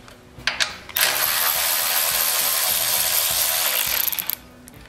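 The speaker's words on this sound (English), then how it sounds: "we're going to pull off these two 10 millimeter nuts." Hand tools on the 10 millimeter nuts of a generator under repair, a few quick metallic clicks followed by a long, loud, steady whirring ratchet run lasting about three seconds, then more clicks.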